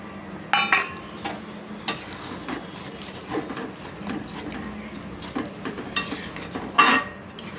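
Chili fish gravy thickened with cornflour bubbles in a pan while a spoon stirs it, giving soft scrapes and a few sharper clinks of utensil against the metal over a quiet simmer.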